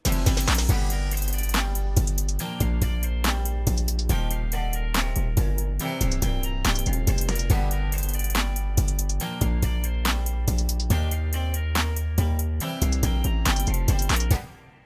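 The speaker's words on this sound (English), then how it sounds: "I added the verse guitar riff in on top of the chorus guitar riff" A country rap track plays, with layered verse and chorus guitar riffs panned left and right over a deep repeating bass and beat, full and continuous before stopping at the end.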